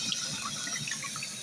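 Water runs steadily from a bathroom tap with a continuous, even splashing rush close by and no voices.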